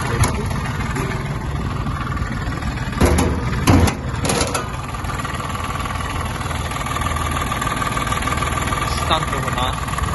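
The small engine of a Japanese Mitsubishi MT-20 mini tractor idles steadily and evenly throughout, with a few brief knocks and clunks early on.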